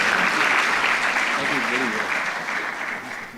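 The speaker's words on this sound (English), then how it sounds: "Please, ladies and gentlemen, including our young scientists, put your hands together for Professor Ratemo Michiaka" Audience applause at a closing ceremony of a national research fund event with young scientists, a dense steady clapping wash that fades slightly toward the end, with faint voices mixed in.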